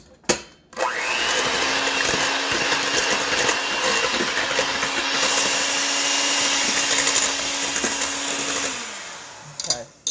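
An electric mixer whirs steadily through chocolate Oreo cake batter for about eight seconds, starting and stopping abruptly, with a steady motor hum and no talking.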